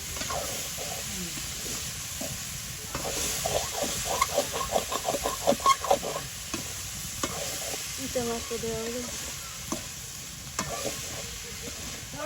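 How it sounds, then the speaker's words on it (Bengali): Small river fish and spices sautéing in a pan in a village kitchen in Hatiya, a constant hiss of frying under rhythmic scraping strokes of a spatula, close and lively, with faint background sounds. "সবগুলো একসাথে দিয়ে ভালোভাবে কষাই নেবেন।"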